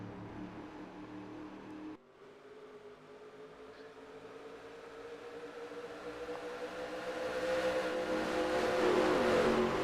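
Race car engines in a Busch Series stock car race at Pocono, a steady engine drone that briefly dips and then swells louder as the cars rev and pass, building toward a close, rising whine at the end.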